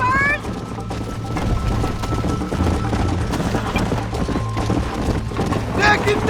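Horse hooves galloping in a race in Red Dead Redemption, a fast, steady clip-clop running throughout beneath game music and voices talking.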